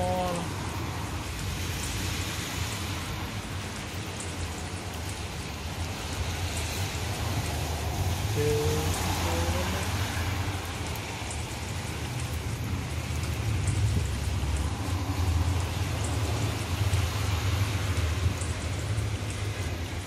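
Heavy rain pours steadily at an outdoor work site in Kuwait, a dense continuous hiss of drops on surfaces with a low rumble beneath, unbroken throughout.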